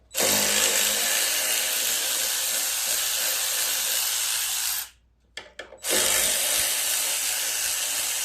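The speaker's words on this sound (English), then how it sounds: "Next, we're going to take these 2 bolts off here, which are 5/16." A power tool removes 5/16 bolts from the carburetor of a Craftsman 6 hp engine. A loud, steady whirring runs close up, cuts out around five seconds with a few short bursts, then starts again at full strength.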